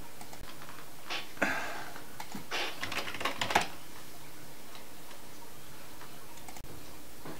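Password being typed on a computer keyboard during a terminal session, a handful of faint, quick key clicks clustered in a short burst near the start, then mostly quiet room tone.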